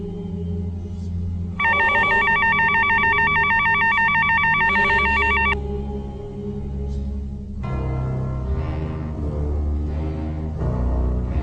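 A cell phone rings with a repeating electronic trill that lasts several seconds over a low, steady background of music and noise.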